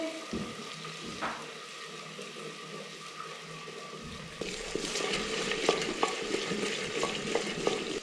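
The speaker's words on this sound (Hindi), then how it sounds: "तो सारा पिसा हुआ मसाला मैं डाल देती हूँ इसके अंदर। इसको फ्राई कर लेंगे।" Ground spice masala drops into a hot pot and starts frying, a quiet hiss swelling into a louder, busy sizzle with the clink and scrape of a spoon stirring close by; no one speaks.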